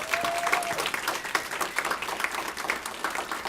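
Guests applaud an honoree at a university museum and café dedication, a lively burst of many hands clapping with faint crowd murmur beneath, steady throughout.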